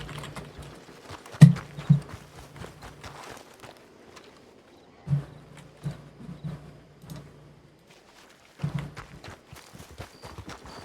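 Horse hooves clip-clop in a Red Dead roleplay game, a few scattered bursts of soft hoof falls separated by quiet pauses, fairly faint and without speech.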